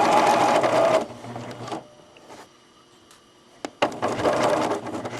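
A sewing machine stitches a softie toy in two bursts, a steady rapid whir for about a second at the start and again near the end, with a quiet pause and a couple of soft clicks between.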